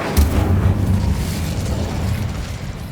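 A burst of fire from the Incendio spell in Hogwarts Legacy, a loud whooshing boom at the start that rolls into a rumbling roar and slowly fades.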